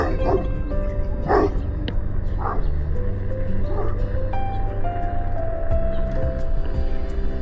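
Several short dog barks and yips from a puppy sound over a steady engine-like hum, with a few higher whimpering notes in between.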